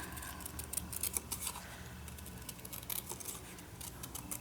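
Scissors trim paper in quick, light snips, a close run of small crisp cuts over a faint room hiss, with brief pauses between clusters.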